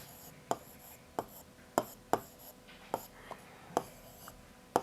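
Pen or pencil tapping and scratching on paper while handwriting, in a series of sharp, evenly spaced strokes close to the listener, with quiet room tone between them.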